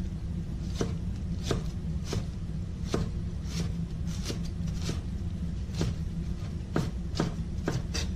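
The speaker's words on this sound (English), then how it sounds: "the harder, thicker part, we're gonna go ahead and slice it so that it gets thinner and it'll cook a little bit faster" A knife slicing through beef on a cutting board while preparing beef chow fun: steady, fairly close chopping knocks repeating at an even pace, with no talking.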